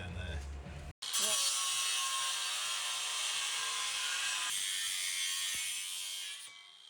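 An angle grinder or saw cuts a metal sill on a Mk1 Ford Transit Connect van, a loud continuous high whine that runs steadily for several seconds, shifts pitch partway through, and then winds down.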